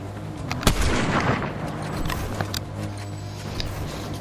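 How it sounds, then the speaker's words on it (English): A sniper rifle fires in the Fortnite video game on an island: one sharp, loud crack near the start, then a few fainter distant reports over a low, rumbling game background. "Oh, sniper. Sniper on the island."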